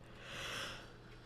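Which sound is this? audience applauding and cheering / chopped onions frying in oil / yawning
yawning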